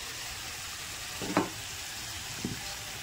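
Boiled jackfruit, cooked with salt and turmeric, goes into sizzling masala in a pan, a continuous frying hiss broken by two brief soft clattering bursts as pieces land and shift.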